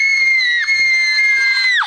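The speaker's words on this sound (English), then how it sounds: "So we're gonna have a screaming contest." Children screaming in a screaming contest, a loud, sustained high-pitched shriek that holds steady, briefly dips, then carries on before tailing off, with no talking.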